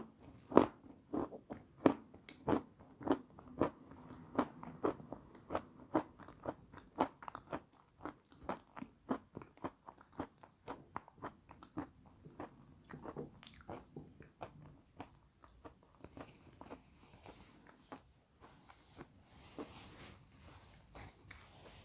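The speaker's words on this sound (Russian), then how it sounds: "Так как я откусываю большие куски, в любом случае придется разжевывать." Crackers and waffles bitten and chewed close up, a steady run of crisp crunches that slowly soften and space out as the pieces are ground down, with no talk.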